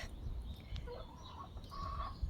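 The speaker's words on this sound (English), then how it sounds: "I can hear the chickens" Chickens cluck softly outdoors in a sunny garden, faint and somewhat distant, a few short calls over steady wind and ambient noise.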